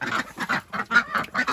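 Ducks kept in wet weather without mud quack loudly in a rapid series of about six harsh, nasal calls, close and unaccompanied by speech.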